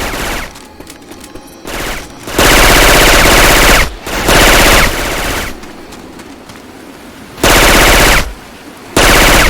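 Automatic weapon fire from Left 4 Dead 2 using Syphon Filter gun sound effects: loud sustained bursts of rapid shots in several blocks, separated by quieter gaps of game ambience.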